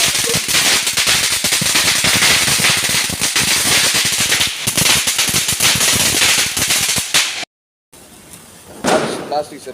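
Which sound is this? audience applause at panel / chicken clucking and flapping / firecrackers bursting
firecrackers bursting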